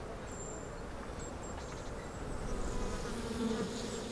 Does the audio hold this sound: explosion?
no